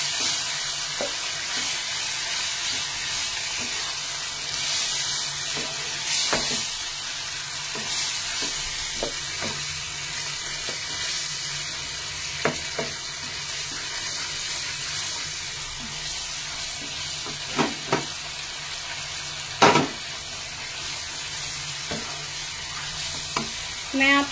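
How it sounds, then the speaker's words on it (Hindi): A spoon stirs yogurt in a hot pan with a steady sizzle underneath, broken by occasional scrapes and clinks against the metal. "इसे चलाते रहना है, नहीं तो दही फट जाएगी।"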